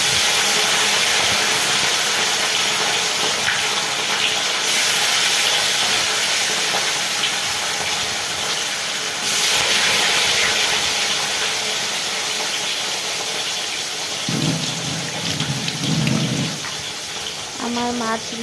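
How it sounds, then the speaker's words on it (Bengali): Fish fry in hot oil in a wok, a loud, continuous close hiss and crackle that runs throughout, with brief voices near the end. "আমি এখন মাছগুলো ভেজে নেবো।"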